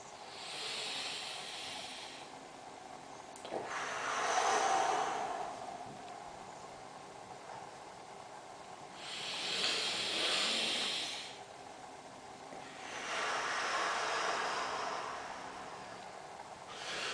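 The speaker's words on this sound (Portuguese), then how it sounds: "Eu estou fazendo uma respiração forçada pela boca" Forced breathing through the mouth during a meditation exercise, slow airy breaths that swell and fade in long cycles, close and breathy against a quiet background, with no talking.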